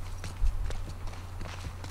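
In The Last of Us Part II, a horse's hooves clip-clop in an uneven walking rhythm. The steps sound soft and fairly close, set against a low, steady background hum.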